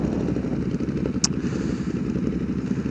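Motorcycles at a supermoto meetup, among them a Yamaha R1, rumble and idle nearby in a steady, gritty mix of engines, with one brief sharp click partway through.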